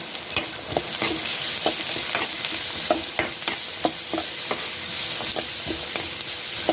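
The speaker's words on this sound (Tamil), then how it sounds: "இந்த டைமில் நம்ம கேரட்டும் குடமிளகாவும் சேர்த்துக்கிறோம்" Carrots and capsicum stir-fry in a pan for eggless veg pasta, a constant bright sizzle broken by quick, rhythmic spatula stirs, close and loud with no talking.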